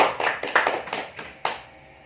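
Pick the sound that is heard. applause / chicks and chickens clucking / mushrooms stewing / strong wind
applause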